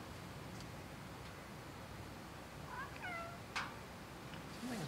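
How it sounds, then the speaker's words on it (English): A house cat gives a couple of short, faint meows in the middle of a quiet room with a steady background hiss, followed by a brief click and a soft rising call near the end. "we've got this cat here."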